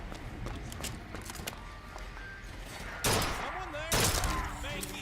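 Gunfire in Bioshock Infinite: a few sharp, loud shots in quick succession near the end, over a busy background of game noise and scattered clatter.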